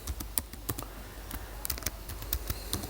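Rapid, irregular clicks of a computer keyboard as a password is typed in twice, close and fairly quiet, with no talking.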